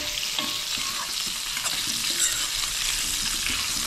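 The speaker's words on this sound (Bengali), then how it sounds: "আলুগুলো ভালোভাবে ভাজতে হবে" Potatoes frying in a pan while making chhanar dalna, a steady close sizzle with occasional stirring scrapes running through the whole stretch, no voices.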